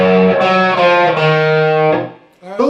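Distorted electric guitar playing the intro lick of a song, loud sustained overdriven notes sliding between pitches, with a brief pause before a final attack, played alone without talk.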